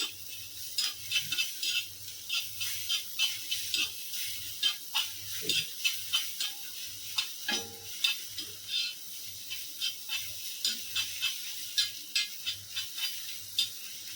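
Egg frying in a pan over a high flame while being stirred briskly, the spatula scraping in a steady rhythm of close, repeated strokes over continuous sizzling, with no talking.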